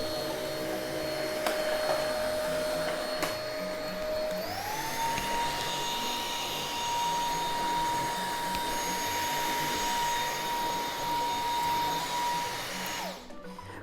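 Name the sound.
Roborock H7 cordless stick vacuum cleaner running on low power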